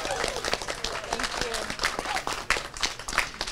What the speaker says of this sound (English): So a big round of applause for Brittany.